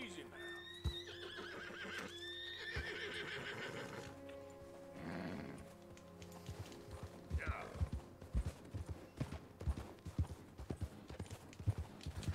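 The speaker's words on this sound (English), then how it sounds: "Feed my horse a sugar cube." In Red Dead Redemption 2, a horse in deep snow gives two neighs and whinnies, then breathes and snorts while hoofbeats thud in an uneven rhythm, all of it at low volume.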